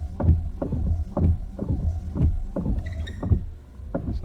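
Windshield wipers on a 2016 Ford F150 with a wiper fault sweep back and forth in a steady rhythm, each pass a soft thump and swish, about five strokes in a row.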